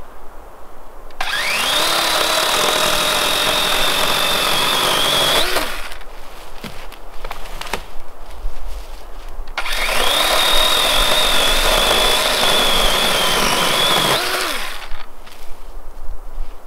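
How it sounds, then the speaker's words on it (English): An electric chainsaw revs up and runs steadily for several seconds outdoors at an early-winter campsite, stops, then runs again just as loudly before cutting out, close by. "let's just test out how loud the chainsaw is out here"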